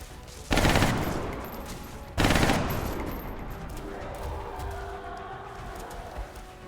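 Rapid-fire weapon shots in XCOM: Enemy Unknown: two loud, close bursts of fast automatic fire about two seconds apart, each decaying into a lingering rumble and quiet ambience.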